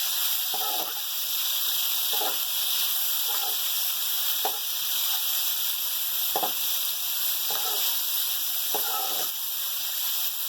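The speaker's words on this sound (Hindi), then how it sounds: "और तेल के अंदर हम पूरे अपने तमाम मिर्चें मिक्स करेंगे।" Stuffed green chillies frying in hot oil give a steady, close sizzle throughout, broken by several soft clattering stirs at irregular intervals.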